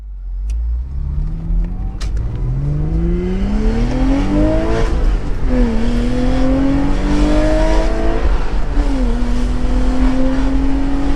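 A Porsche Boxster 986 engine revs hard on a dyno, a loud sustained roar climbing in pitch through the gears with brief dips at each shift, continuous and close with no talk.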